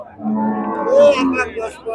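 A cow moos loudly and close by, a single drawn-out low call over busy background chatter from a crowd at a cattle market.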